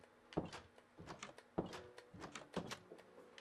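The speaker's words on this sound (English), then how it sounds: "doors have a very different noise to them" Doors close in Minecraft on Xbox One / PS4 with a hefty slamming thunk, repeated about four times at roughly one-second intervals, faint and alone.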